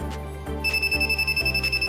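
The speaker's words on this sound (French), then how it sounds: "le buzzer prévient qu'il y a une alarme" Arduino buzzer sounding an alarm from a rain sensor, a loud electronic tone pulsing in a fast, regular beeping pattern, close and alone.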